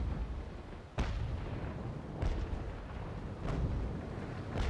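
Three heavy ship cannon blasts in the video game Naval Action boom at roughly even intervals, each a sharp concussive burst trailing into rumbling background noise.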